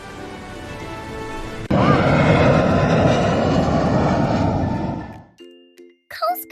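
A patrol jet flies past with a loud, broad engine roar that swells in suddenly and holds steady for several seconds before cutting off, followed by brief chime-like tones; a voice speaks briefly over the start.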